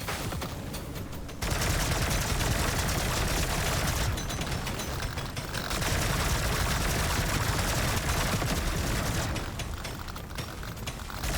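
Rapid automatic gunfire from Deep Rock Galactic Survivor as the player shoots swarming bugs, a loud continuous crackling barrage that fills almost the whole stretch with only a brief lull near the start.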